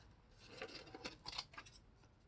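Scissors snipping through paper for a collage in a brief series of quick, faint close cuts with a crisp papery rasp.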